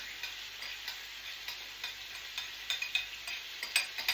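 Spicy salmon is stirred into rice in a bowl, a steady run of soft, sticky scraping and clicking strokes, close by and growing a little louder and busier toward the end.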